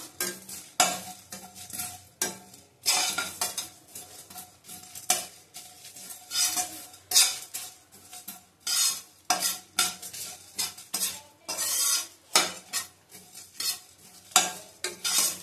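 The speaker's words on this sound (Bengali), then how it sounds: "সব ভেজে নেব ভালো করে।" Ingredients for a sweet, sour and spicy mango pickle fry in a pan while a utensil stirs them, giving repeated scraping clinks over a soft, steady sizzle with no talking.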